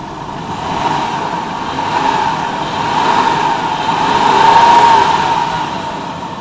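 The engine of a 2002 Dodge Grand Caravan, fitted with new spark plugs, idles steadily and smoothly up close, its hum swelling gently in slow waves without any talk.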